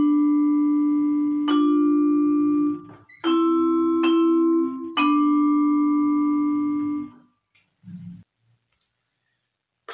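Mallet notes ring out from a xylophone with wooden bars and a vibraphone with metal bars, in a few struck groups separated by pauses, each with a clear sustained tone. A short low sound follows near the end.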